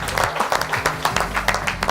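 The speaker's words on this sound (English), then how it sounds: "give a round of applause to yourselves, man" A business networking audience at a BNI event breaks into applause, with brisk, fairly loud, evenly pulsing claps and a low hum underneath.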